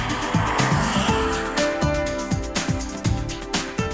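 A 1994 BMW 7 Series E38 prototype lapping the Nürburgring Nordschleife, its engine droning loudly with repeated gear changes and rising revs, close and continuous.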